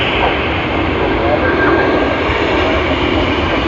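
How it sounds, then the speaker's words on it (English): A Qantas Boeing 787-9 Dreamliner at Sydney Airport produces a steady, close jet engine roar with a broad hiss, and a voice talks over it briefly. "now let us have a look at the 787-9 Dreamliner"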